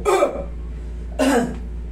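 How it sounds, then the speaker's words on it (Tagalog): Two separate coughs, close and clear, spaced about a second apart over a steady low hum. "lakasan mo ubo"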